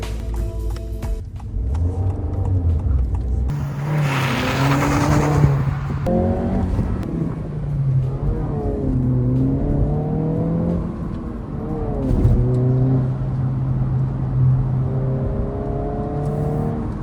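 A Honda Civic Si fitted with an aftermarket air intake accelerates repeatedly from inside, its engine whir rising and falling through several rev sweeps over a steady low rumble, heard alone without talk.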